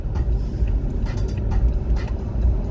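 Cars passing on a road, a steady low roadway rumble with several brief whooshes of vehicles going by at moderate distance, no voices.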